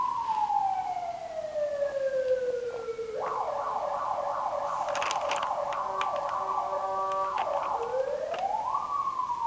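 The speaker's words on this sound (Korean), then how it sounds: "소방차가 많이 지나다니네." Fire truck sirens pass outside a building, heard from indoors as a wail that drops, switches to a fast yelp, then rises again, moderately loud and steady against room noise.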